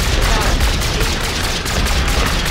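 Rapid, dense gunfire in the video game Call of Duty: Infinite Warfare, a continuous loud barrage of shots with booming impacts throughout, no pauses.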